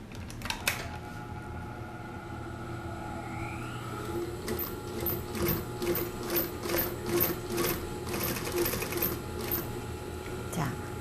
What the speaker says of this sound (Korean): 여기서부터 박음질 시작할게요.